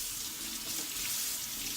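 Tap water runs steadily over two celery stalks held beneath the faucet, a close, continuous hissing splash with no talking.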